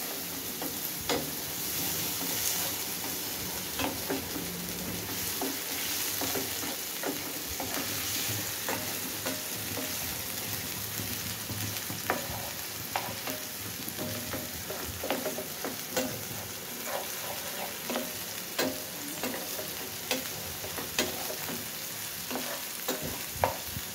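Chopped onion sizzling in a pan while being stirred for spicy Maggi noodles, a continuous soft frying hiss with frequent light spatula scrapes and taps, fairly quiet and without talk.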